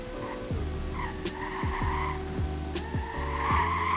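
A BMW M2 drifting with traction control switched off, tires squealing and skidding in sustained pitched screeches over a steady engine drone, with repeated bursts of slip.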